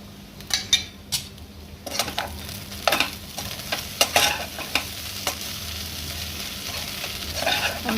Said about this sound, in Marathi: तर आता आपण हे ढोकळ्यावर घालूया आणि मिसळून घेऊया मस्त.